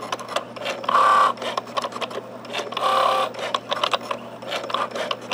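A Cricut Joy die cutting machine cuts a card with a rhythmic mechanical whirring, its motor surging and easing in repeated passes, close and alone.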